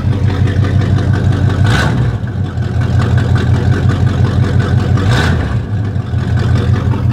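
A loud, rough Chevy C30 truck engine at high idle with its exhaust cut off, deep, throaty rumble running steadily throughout with two brief swells.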